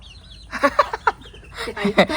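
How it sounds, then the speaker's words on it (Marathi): A group of village hens in the Konkan gather and cluck: several short, close clucks come in uneven bursts over a quiet background. "हे बघा, सगळ्या आल्या कोंबड्या"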